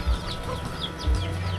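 Chickens cluck around a village house, scattered soft clucks and calls heard at moderate distance over a low outdoor rumble.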